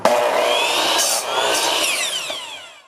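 A power saw bites through wood for a rustic bench, a loud, continuous whining cut that rises and fades over about three seconds with no talking.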